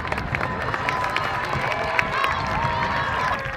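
A large crowd cheers and claps at a playoff ceremony as teams are greeted, a dense continuous roar of many voices with scattered applause, fairly loud and sustained throughout.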